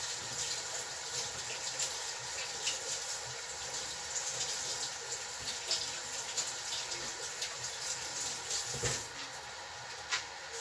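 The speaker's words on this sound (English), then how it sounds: "I'm going to go over here and wash my hands real quick before I add the flour." Hands being washed under running tap water at a kitchen sink, a steady hissing stream that runs continuously at moderate, fairly distant volume, with small splashes breaking through now and then.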